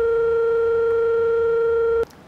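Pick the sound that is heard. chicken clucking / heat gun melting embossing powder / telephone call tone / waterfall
telephone call tone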